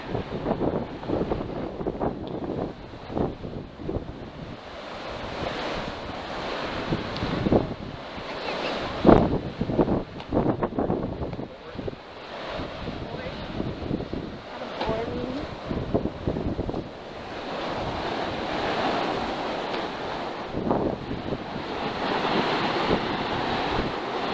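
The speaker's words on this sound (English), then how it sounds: "It is very windy here." Strong wind buffets the microphone in a constant roar at Cape Disappointment State Park on the coast, with surf washing in along the shore underneath; gusts swell and ease throughout.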